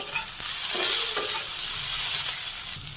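Raw onions tossed into a hot pan with turmeric, chili powder and green chilies, sizzling steadily and loudly with scraping stir strokes, close up, in a Bangladeshi village kitchen.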